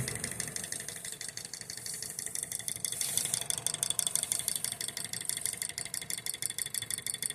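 A Stirling engine fitted with an added valve to control RPM runs very slowly, giving a steady rhythmic clicking and rattling whir with a faint mechanical hum, fairly close and alone.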